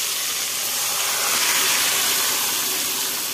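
Chopped onion, onion paste and tomato pieces hitting hot oil give a loud, steady broadband sizzle that swells slightly midway and holds throughout, with no talk.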